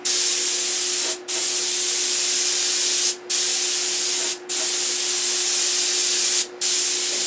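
A spray can or spray gun applying paint to a P-47 model in a home room, with a box fan running nearby; a steady loud continuous hiss with four brief pauses, over a constant low hum.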